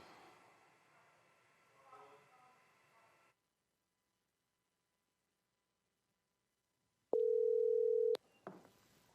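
A phone call to someone rings out with one long, steady electronic tone lasting about a second. It follows a stretch of silence, and faint voices come before and after.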